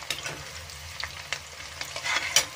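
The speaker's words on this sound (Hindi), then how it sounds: "मैंने ली थी एक प्याज और छोटी छोटी मिर्ची है पांच। तो मैंने अब ये फ्राई कर लेते इनको" Chopped onion and five small chilies fry in hot oil, giving a soft, steady sizzle with occasional stirring clinks and scrapes, close by and fairly quiet, with no talking.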